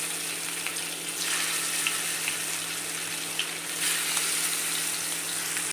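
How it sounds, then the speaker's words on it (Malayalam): Steady sizzling of scored fish frying in hot oil in a pan, continuous and fairly loud, with occasional small pops and no talking. "ഇനി നമുക്കൊന്ന് വറുത്തെടുക്കാം"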